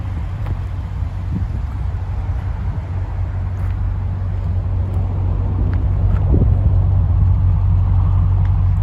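A 2010 Audi S5 with the 4.2 V8 and a Miltech exhaust idles nearby. It gives a steady, deep, humming rumble that grows slightly stronger toward the end, with faint wind noise over it.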